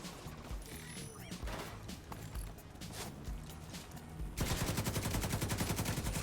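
Sniper rifle fire in The Division 2, with a run of sharp gunshots amid busy combat noise, then a dense, rapid burst of rhythmic firing that grows louder near the end.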